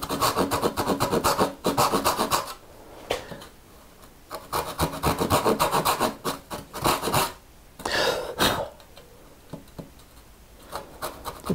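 A hand saw cuts dovetails in wood with rapid rhythmic rasping strokes in repeated bursts, separated by short pauses and a few scrapes, close and fairly loud.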